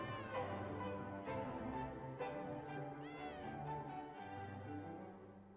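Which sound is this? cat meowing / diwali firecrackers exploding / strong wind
cat meowing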